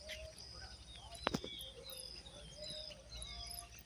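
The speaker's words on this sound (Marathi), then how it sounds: "पक्ष्यांचा किलबिलाट आवाज येतोय" Birds chirp faintly outdoors in scattered short tweets and calls over quiet background noise, with one brief sharp knock in the middle.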